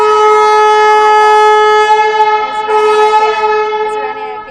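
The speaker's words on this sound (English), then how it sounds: "Oh, it seems like the train is going to leave." A train horn sounds in a long, steady, loud blast with a rich stack of harmonics, wavering slightly in its second half before fading, as a train in Liupanshui prepares to depart; no talk over it.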